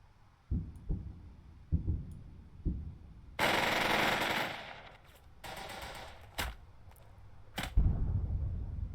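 Gunfire in the tactical leadership game Burden of Command: several separate single shots, then a sustained burst of rattling automatic fire, followed by scattered bursts and a final sharp crack, all close and without talking.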